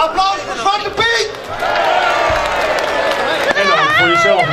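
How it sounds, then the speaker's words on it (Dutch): Crowd cheering and shouting with some clapping at a Sinterklaas arrival parade in Anna Paulowna in 2011, greeting Zwarte Piet, holding steady and loud under overlapping voices. "Applaus voor Zwarte Piet!"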